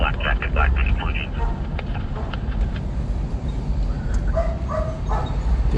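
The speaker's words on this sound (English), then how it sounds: "there's a dog going nuts over here" A dog barks in rapid bursts near a road at night, loud at first and then fading, heard over a constant engine drone, with people talking over it.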